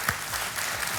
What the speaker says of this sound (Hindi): ताली बढ़ गई पहले से।